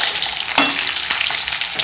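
Ivy gourd (tindora) pieces fry in a pan with a bright, hissing sizzle, broken by a few stirring scrapes and knocks close by.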